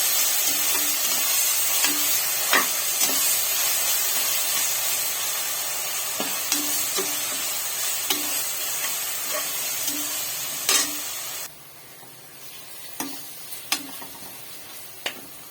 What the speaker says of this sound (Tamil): பாஸ்மதி ரைஸ் செய்கிறேன் சேர்த்துட்டு நல்லா எல்லாத்தையும் வதக்கிக்கலாம்